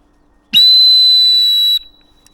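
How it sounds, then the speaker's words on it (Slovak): A single sharp, high-pitched dog training whistle blast holds steady for just over a second, loud and close, then cuts off into quiet. "Píšťalka vydáva stále rovnaký zvuk bez emócií."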